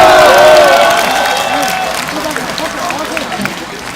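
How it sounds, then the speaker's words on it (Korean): An outdoor crowd at an election rally in Daegu claps and cheers with a shrill whistle at first, the noise loud at the start and gradually thinning over a few seconds. "자, 여러분 큰 박수로 모시겠습니다."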